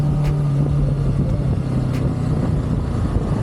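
Kawasaki Ninja 7 HEV hybrid motorcycle running on its engine, a steady low drone with a droning hum and wind rush from riding, loud and continuous.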